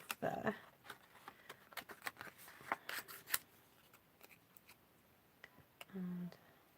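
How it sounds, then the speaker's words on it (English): Scissors cut something off in a few quick, close snips with small clicks. The sound is quiet, and a short hum comes at the end. "so I'm going to just cut that off there"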